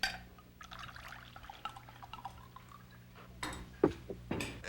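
White wine is poured into a glass in short, quiet trickles and splashes, ending with a few brighter clinks and pours near the end, with no talking over it.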